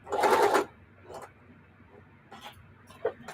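A sewing machine stitching through several layers of fabric during an upcycling project, one loud whirring burst at the start and then short faint runs and clicks over quiet room background.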